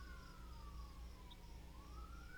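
A faint emergency vehicle siren wails somewhere outside, its pitch sliding slowly down and then rising again over a steady low hum, far off and quiet with no voices.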